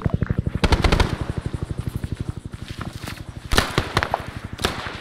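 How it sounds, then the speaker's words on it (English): Rapid automatic gunfire crackles in a steady burst during fierce fighting, with a couple of louder, sharper blasts standing out near the middle and a closer heavy shot punctuating the rattle, all close and loud with no talk. "Shotgun blast."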